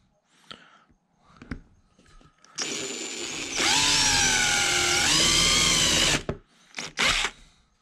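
A power drill whirs into wood while a jack-o-lantern is carved. The sustained motor whine runs for several seconds and rises in intensity partway through, with faint taps and handling noises before and after.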